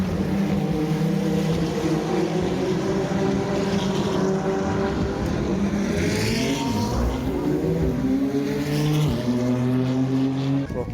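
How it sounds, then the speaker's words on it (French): Race cars at the McLaren Trophy start at Circuit Paul Ricard roar together in a dense, loud wall of engine noise, with rising and falling pitches as several cars accelerate past. "j'ai chopé de justesse le départ du McLaren Trophy"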